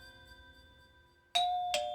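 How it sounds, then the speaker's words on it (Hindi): A doorbell chimes twice in quick succession, a bright ding-dong ringing out clearly over a quiet room with a faint musical tone beforehand. "डोरबेल।"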